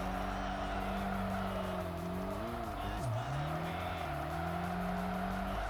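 A race car engine in the video game Tokyo Xtreme Racer: Drift 2 drones steadily and loud throughout, its pitch wavering and dipping sharply once midway before climbing back to a sustained hum.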